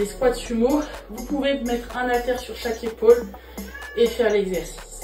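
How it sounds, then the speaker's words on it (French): A house cat meows intermittently in the background during a French lower-body home workout, its cries partly masked by a woman giving exercise instructions. "Désolé si vous entendez mon chat miauler"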